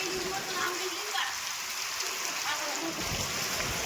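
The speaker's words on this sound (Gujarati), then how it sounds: "ઘણો બધો વરસાદ આવી ગયો." Steady heavy rainfall hisses across the whole clip, a dense broadband wash with no pauses and no voices.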